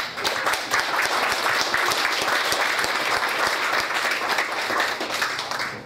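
Members of a Korean-American association at a general assembly and inauguration ceremony give themselves a round of applause, a loud, dense, sustained clapping from a sizable crowd filling the whole stretch with no talk over it.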